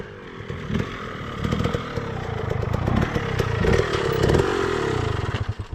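A KTM 300 two-stroke dirt bike engine revs hard and loud throughout, its raspy buzz rising and falling with throttle blips and bursts of acceleration, close by with no talking.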